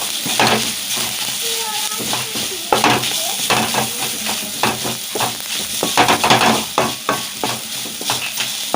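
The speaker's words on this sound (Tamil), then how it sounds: "இதாவது நெய்யிலே இந்த தேங்காய் வந்து நம்ம பரட்டி எடுத்துக்கலாம்." Grated coconut sizzles and roasts in ghee in a kadai while a spoon stirs and scrapes in irregular strokes, close and steady, with a person speaking over it.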